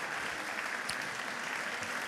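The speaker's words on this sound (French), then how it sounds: "Je vais demander à mes 4 orateurs de monter sous vos immenses applaudissements." Steady, dense applause from a conference audience as speakers come up onto the stage at a talk on ending pain, even and continuous throughout, with no voices on top.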